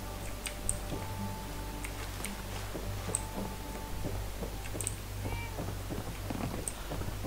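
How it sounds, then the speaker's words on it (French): A cat meows a few times in Fallout 4, short faint cries over a steady humming game ambience with light ticking sounds. "Oh le chat! Oh les chats!"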